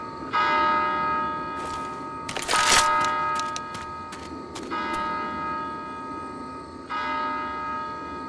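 Church bell tolling in the zombie shooter Left 4 Dead, several resonant strikes ringing out with long sustained decay, mixed with sharp clattering game sounds in the middle.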